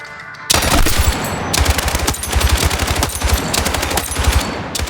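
Automatic weapon fire from a Battlefield video game: loud, rapid bursts of shots burst in after a brief quiet start and continue in repeated volleys with short gaps.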